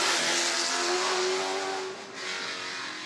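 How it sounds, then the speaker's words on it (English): Race car with Weber carburetors and Westlake heads on a time trial course, its engine roaring loud and close with a rising rev before easing off, no voices. "I can tell just by listening, that car is in the most excellent tune."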